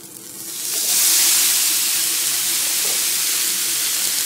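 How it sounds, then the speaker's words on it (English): Brussels sprouts hit a very hot pan of bacon fat, bursting into loud, steady sizzling and hissing that swells within the first second and holds strong without any talk. "our pan obviously is really hot now, so we're going to go ahead and throw in our Brussels sprouts"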